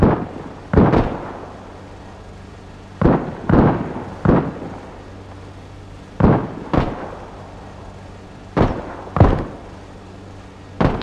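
Gunfire and explosions from the game Arma Reforger: about a dozen sharp, loud reports, some single and some in quick pairs, spaced irregularly across a low background rumble, with no talking.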